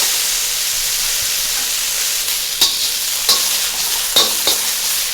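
Onions and Chinese sausage frying in oil for Chinese fried rice, a steady hissing sizzle broken by a few sharp scrapes of a spatula stirring the pan in the last seconds, no speech.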